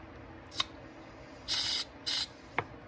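Carburetor cleaner sprayed onto ATV carburetor jets in several short hissing bursts, two longer blasts in the middle and a brief click-like puff at the end, close and alone.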